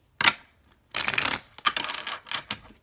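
Tarot cards shuffled by hand in short bursts, a sharp riffle followed by several quick rustling flurries, close and crisp with no talk.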